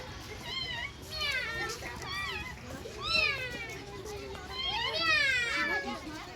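Loud, drawn-out meows and yowls from big cats at Peshawar Zoo sound in bursts, with children's voices chattering in the background.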